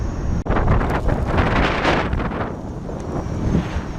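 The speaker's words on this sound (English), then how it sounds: "It's been very windy all day today." Steady, loud wind roars into the microphone for the whole stretch, a rough broadband rush with gusty swells and no talking.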